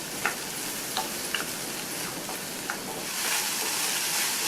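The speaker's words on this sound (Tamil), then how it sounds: "இந்த வெங்காயம் லைட்டாக வதங்கினா போதும்" Onion, ginger and garlic sauté in a pan with a continuous hissing sizzle, broken by a few light ticks of a spoon against the pan, the sizzle swelling louder near the end.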